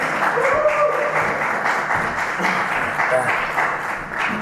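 A crowd at a UK professional wrestling show applauds a wrestler's effort during a submission hold. The clapping is steady and broad, with crowd voices mixed faintly underneath throughout.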